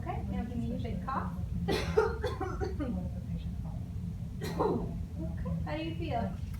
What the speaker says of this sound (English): now give me a big cough